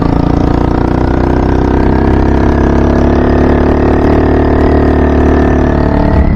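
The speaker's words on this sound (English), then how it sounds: "This bike runs good with this motor on it" A Honda Hawk motorcycle engine runs steadily at a loud, close idle, a continuous throaty drone with a faint crackle from the exhaust.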